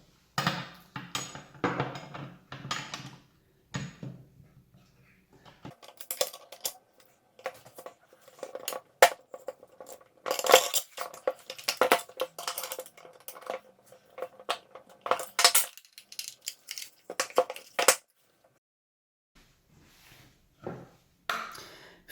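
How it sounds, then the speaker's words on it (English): Spanner clinking and ratcheting against metal while tightening the lock nuts on a Porsche 996/986 quickshift, with scattered close metallic taps and scrapes separated by quiet gaps. "then we can tighten up the lock nuts"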